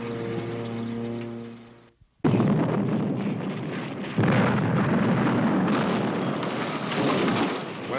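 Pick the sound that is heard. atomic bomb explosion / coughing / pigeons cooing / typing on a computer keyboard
atomic bomb explosion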